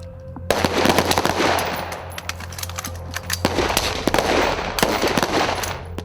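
Rifle fire during malfunction drills at a shooting range, loud rapid strings of shots cracking close by, broken by a short pause and then resuming in quick bursts.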